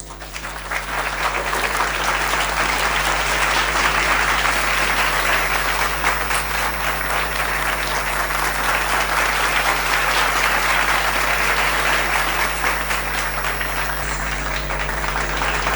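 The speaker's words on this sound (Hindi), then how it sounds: "तालियाँ हो जाए।" Sustained applause from a large crowd at a felicitation ceremony, dense and steady throughout, loud and continuous without pause.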